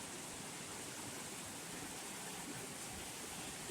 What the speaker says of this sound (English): Wouldn't it be awesome to take my bike out in this pouring rain?